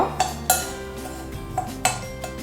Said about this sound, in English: We're gonna give this a good mix with a spoon, or our hands is fine too.